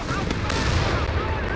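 Machine gun fire in the Company of Heroes 3 war game rattles as a dense, continuous burst of automatic shots mixed with battle noise, loud and steady across the whole moment.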